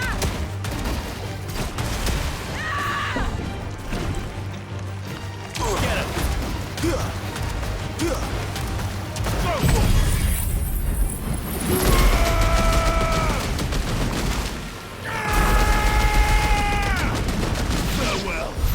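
Gunfire in the Final Fantasy XVI video game, loud bursts of shots and mechanical clanks mixed with booming effects and ringing tones, with voices talking over the action.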